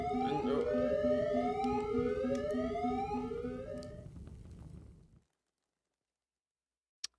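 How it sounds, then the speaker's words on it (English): A fire alarm rings in the video game Jazzpunk, a loud rising and falling electronic wail with a pulsing beep, running for about five seconds before cutting to silence. "Fire alarm."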